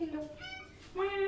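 A pet cat being woken gives two short, quiet, close meows with a brief pause between them, and a voice is heard nearby.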